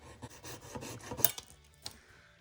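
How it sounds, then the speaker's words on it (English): Rasping strokes from cutting a small part for a 1/64 custom diecast 1994 Dodge stretch limo party van, a quick run of close, scratchy passes that thins out into a few lighter scrapes, with no talking. "I'm going to cut that right across the mounting hole there"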